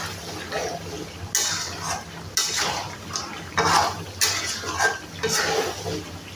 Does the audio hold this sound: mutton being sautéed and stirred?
yes